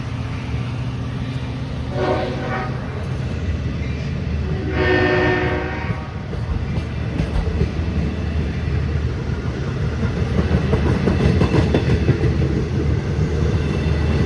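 LIRR diesel train 660, led by locomotive 517 with DM30AC 505 on the rear, passing close with a loud continuous rumble and clatter. Two strong horn blasts sound early.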